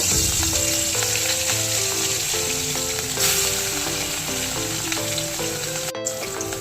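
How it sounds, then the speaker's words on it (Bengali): Fish sizzling loudly in hot mustard oil, a dense, continuous close-up crackle and hiss that stays strong from start to finish, with faint music playing underneath. "এবার আমি মাছটা তেলের মধ্যে দিয়ে দেব।"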